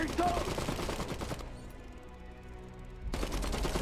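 Gunfire in the video game Iron Harvest: a dense rattle of rapid shots that drops to a quieter lull, then resumes, loud and layered with game noise.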